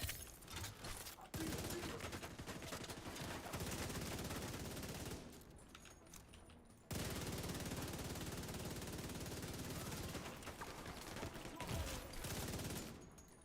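Sustained automatic gunfire from Division 2 combat, loud dense bursts crackling almost continuously, briefly breaking off at mid-point before resuming in heavy, close volleys.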